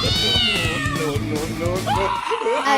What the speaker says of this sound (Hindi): इतना प्यारा बिल्ली का बच्चा।